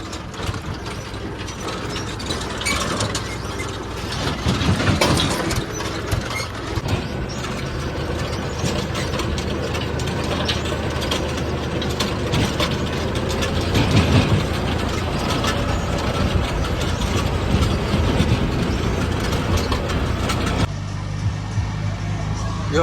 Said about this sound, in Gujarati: જો ટ્રેક્ટર કેટલા હાલે છે